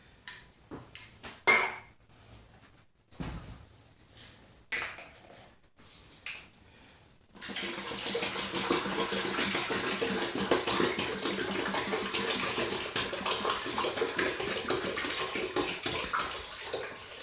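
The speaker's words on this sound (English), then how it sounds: "Obviously can't shake this big bucket to oxygenate it, so pouring it in roughly will do that." Homemade Niagara wine pours roughly into a big bucket. A few sloshing splashes come first, then a steady, loud, gushing stream that runs on without a break.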